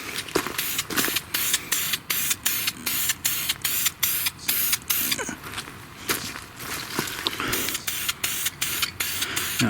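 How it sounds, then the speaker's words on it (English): A Krylon black spray paint can hisses in a long series of short, loud, evenly spaced bursts, a light dusting of paint onto the base of a 1932 Delco 16-inch fan. "I've got my brand new can of Krylon black."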